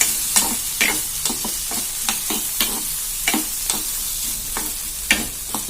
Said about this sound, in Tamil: இது நல்லா வதங்கட்டும், காமிக்கிறேன்.